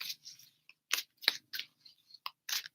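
Playing cards shuffled by hand during a late-night card trick, giving a few separate crisp riffling bursts with short pauses between them, fairly close and moderately loud, with no talking.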